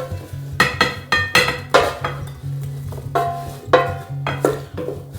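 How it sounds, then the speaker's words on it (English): Crispy cooked potatoes are tipped and spooned into a casserole dish, making a series of sharp clattering knocks and scrapes in irregular clusters, close and fairly loud. "So we're gonna just put our potatoes in our casserole dish first."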